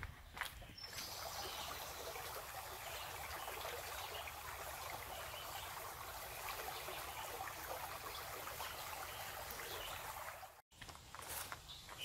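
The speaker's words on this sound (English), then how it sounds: "I think I can hear a waterfall." Stream water flowing steadily toward a waterfall in a park, a continuous broadband rush with faint bird chirps over it, carrying on evenly until a brief dropout near the end.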